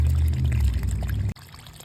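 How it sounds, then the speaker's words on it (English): Dirty water gushes from a garden pond filter in a steady, heavy pour that cuts off abruptly near the end, leaving a faint trickle, with no voices. "water coming out of this thing's finally clear"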